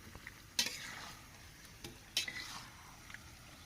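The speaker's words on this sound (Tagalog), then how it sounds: "Haluin natin ng mabuti para lahat ng dugo ay malagyan ng sauce o makot." Fried pork blood being stirred into sauce in a pan gives a soft, quiet sizzle. Two sharper scraping clinks of the utensil against the pan stand out among lighter stirring taps.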